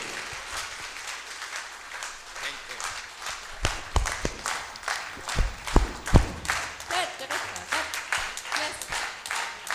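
Audience applause at a singing academy's annual function for a keyboard player, a fairly soft, steady wash of clapping from a crowd with a few sharper, louder claps scattered through it.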